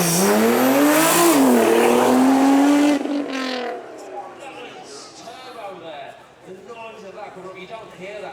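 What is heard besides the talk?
Nissan GTR braking and driving past at supercar event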